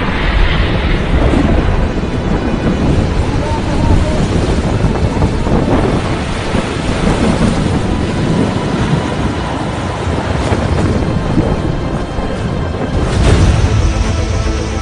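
Cyclone Amphan's storm winds roaring across West Bengal, a loud, continuous buffeting rush with heavy low rumble and wind battering the microphone throughout, no voices heard.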